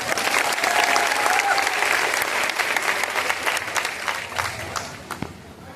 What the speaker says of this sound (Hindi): तो इसमें राकेश सर के लिए एक बार जोरदार तालियां